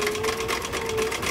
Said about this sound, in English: You can really whip a bunch of these out if you're doing them on a sewing machine.